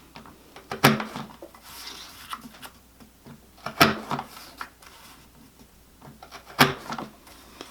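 A paper sheet is punched three times on a We R Memory Keepers frame punch board, each press a sharp close clack with a papery rustle between, evenly spaced and loud in a quiet room.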